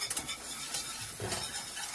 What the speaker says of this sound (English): add in a third of a cup of flour. I'm going to give this a stir.